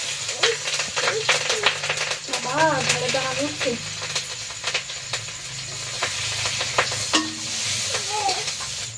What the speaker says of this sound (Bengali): এই যে পেঁয়াজ আর কাঁচা লঙ্কা কষা দিয়ে দিচ্ছি তেলে